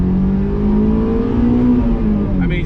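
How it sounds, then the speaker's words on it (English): A 2006 Honda S2000 engine revs loud and close inside the car, with a sustained rising and falling drone and no speech. "hear the engine revving and everything like that"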